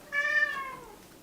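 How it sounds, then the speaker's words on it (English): A single clear meow from Merlina, a pet cat, close and fairly loud, rising then gliding down over about a second in a quiet room. "I don't know if you heard, but my cat Merlina is behind me."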